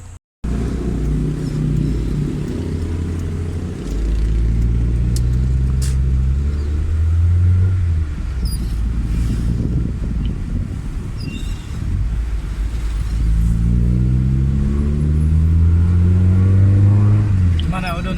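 A Honda Civic LXi on a road test after a gauge panel repair: steady engine drone and road rumble with rising and falling gear tones, loud wind noise, and occasional voices inside the cabin.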